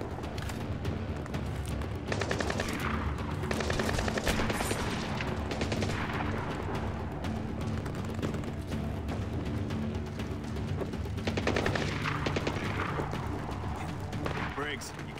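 Gunfire from a firefight in the stealth action game Splinter Cell: Blacklist, dense bursts of shots and booms running steadily through the whole stretch, mixed with game music and voices talking over it.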